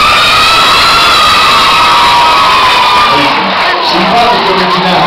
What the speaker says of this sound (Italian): Per applauso.